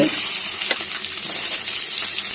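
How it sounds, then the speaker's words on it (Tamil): Garlic and onions sautéing in oil in a kadai with mustard seeds, dal, cumin, dried chillies and curry leaves, giving a close, steady crackling sizzle throughout. "வெங்காயம் எல்லாமே சேர்த்துட்டு வதக்கிக்கலாம்"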